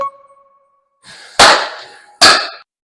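A fading ring leads into two sharp, loud smacks about a second apart, a baseball popping hard into a Matoi catcher's mitt.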